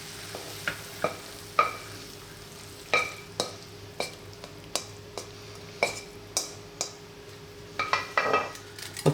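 Ground chicken sizzles in a hot pan while a utensil scrapes and knocks against the metal in a steady rhythm of sharp taps and stirs over a low, continuous frying hiss, close and with no talking.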